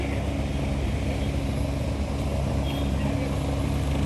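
A helicopter in flight gives a steady, continuous low rumble with no clear break or change over the few seconds. No one speaks.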